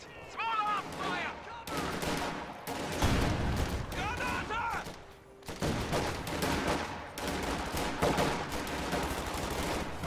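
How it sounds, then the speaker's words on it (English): Small arms gunfire in a World War II strategy video game, rapid bursts and volleys of rifle and machine-gun shots crackling continuously over battle noise, with a voice talking over the fighting. "Contact! Small arms fire!"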